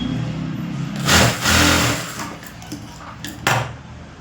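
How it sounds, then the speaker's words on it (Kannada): A sewing machine stitches fabric in short whirring bursts, its motor rising and stopping in a few close, loud runs with brief pauses between. "ಈ ಬಟ್ಟೆ ನೀಟಾಗಿ ಹಿಂಗೆ ಎಳ್ಕೊಂಡು ಇದ್ರ ಮೇಲೆ ಸ್ಟಿಚಿಂಗ್ ಹಾಕಿ."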